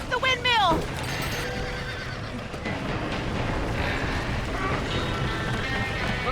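Horses whinny loudly in a Red Dead Redemption game scene, a sharp rising neigh up front giving way to a steady rush of hooves and wind, with people shouting over the commotion.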